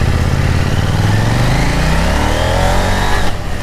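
A 2020 KTM 890 Duke R motorcycle engine accelerating hard on the road, a loud, continuous rising roar that climbs steadily in pitch for several seconds before easing off at the end.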